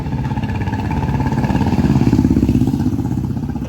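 A motorcycle engine idles and chugs close by as the bike is being parked, a steady, loud, rhythmic putter that swells slightly midway, with no speech.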